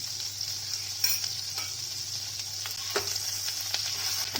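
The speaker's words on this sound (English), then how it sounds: "Now I'm going to put some butter, and then I'll add some ginger garlic paste here as well." Ginger garlic paste frying in butter over low flame, a soft continuous sizzle with a few light stirring taps, close and steady, no voices.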